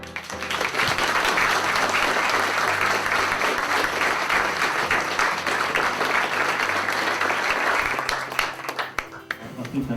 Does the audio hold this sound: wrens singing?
no